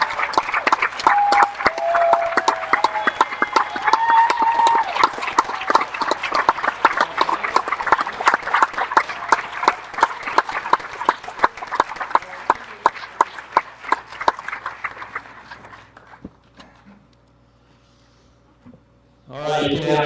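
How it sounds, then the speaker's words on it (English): Steady applause from a commencement audience honouring the Gow School class of 2020, a sustained round of rhythmic clapping that fades out after about fifteen seconds, followed by near silence and a voice starting at the end. "while we're clapping"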